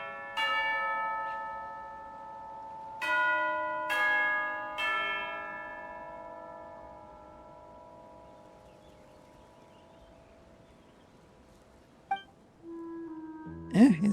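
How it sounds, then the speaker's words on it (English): Resonant bell tones ring out for tea time in the Genshin Impact video game, several struck in turn and decaying slowly, followed by softer chiming notes. "You hear the sound of a bell."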